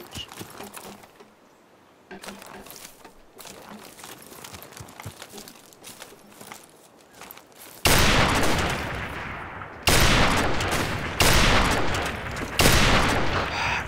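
Call of Duty 4 one-on-one match gunfire: quiet muffled shots and footsteps at first, then loud, dense bursts of rapid firing in four blocks separated by brief gaps.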